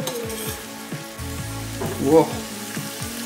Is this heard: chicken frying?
yes